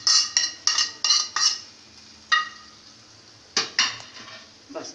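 Spoon or spatula clanking against a pan while chicken is roasted with crushed chillies, salt, ground coriander and turmeric, a series of sharp metallic knocks in bursts with pauses, close and fairly loud, with faint sizzle beneath and no talking.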